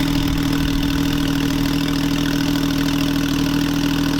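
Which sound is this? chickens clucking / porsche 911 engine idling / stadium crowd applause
porsche 911 engine idling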